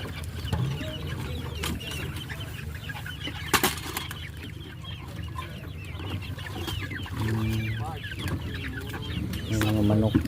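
Chickens cluck and squawk close by outdoors in Misamis Occidental, with short repeated calls and a brief flutter of wings over a steady background rumble.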